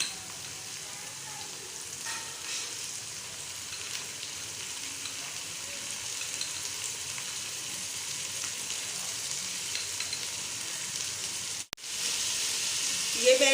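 Garlic frying in a pan for a beef dahi gosht recipe gives a steady, soft sizzle that runs through the whole stretch, with a brief clatter near the end.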